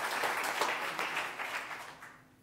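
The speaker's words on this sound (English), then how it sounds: "round of applause" Church congregation clapping during a Sunday Pentecost worship service, a short, moderately loud burst of applause that fades out toward the end.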